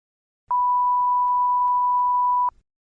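A single steady test beep from a TOEFL iBT speaking test lasts about two seconds as a pure, clean tone against silence.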